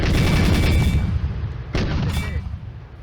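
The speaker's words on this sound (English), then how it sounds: "It is firing AP shells from a 20mm cannon." A 20mm cannon fires armor-piercing shells in a World War II Eastern Front tank video game: a loud, dense burst of rapid booming shots, a brief lull, then a shorter second burst.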